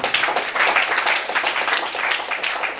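A church congregation applauding a pastor during a morning worship service, dense steady clapping from many hands filling the room without a break, fairly loud and close.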